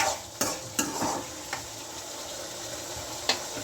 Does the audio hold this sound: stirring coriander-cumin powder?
yes